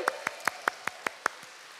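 Rhythmic handclaps at a worship service keep a steady even beat, about eight distinct claps, fairly faint and without cheering.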